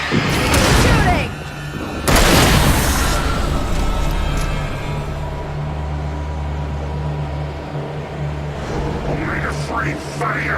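Heavy gunfire in the video game Alan Wake, with two loud, booming shot bursts close together near the start, followed by a lower sustained rumble and faint scattered sounds.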